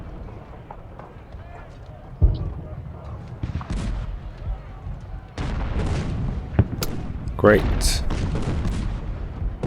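Cannon and musket fire from the Ultimate General: Gettysburg game: booming artillery blasts and scattered gunshot cracks of varying loudness over a rumbling battle bed, with someone briefly talking.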